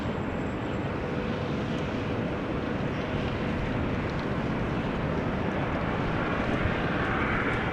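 An airliner cruises high over Amsterdam Schiphol airport at about 7,000 feet, a steady, broad, distant engine roar holding at even loudness throughout with no speech.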